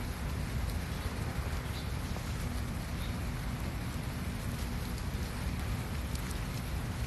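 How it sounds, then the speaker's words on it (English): Rain falls steadily outdoors as a dense, even hiss of drops that continues without a break from start to finish, with no voices. "Yeah, it's raining."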